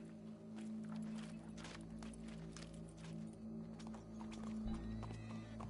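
Horse hooves clop in a steady walking rhythm in the video game Red Dead Redemption 2, close and clear, over a low droning hum.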